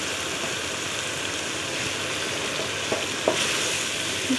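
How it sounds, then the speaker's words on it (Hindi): Dal roasting in a pan with a splash of water for Punjabi dhaba-style mash dal, giving a continuous close sizzle and hiss with a few soft spoon scrapes near the end. "अब हम इसको थोड़ा थोड़ा सा पानी डाल के भूनते जाएंगे"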